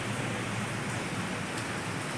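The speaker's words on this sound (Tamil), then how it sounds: "இந்த மாதிரி மழை கிளைமேட்டில் தான் எப்படி இருக்குன்னு பார்த்தீங்களா?" Steady evening rain falls continuously in a dense, even hiss with no other sounds standing out.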